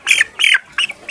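A 16-day-old chick squawking as it is caught for weighing: four short, loud, close squawks in quick succession with brief gaps between.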